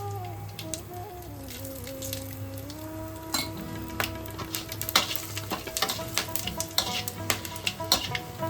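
Whole spices, a bay leaf, dried chili and cumin crackle in hot oil after sugar has caramelized, a steady close sizzle with scattered sharp pops and occasional utensil clinks, growing busier partway through.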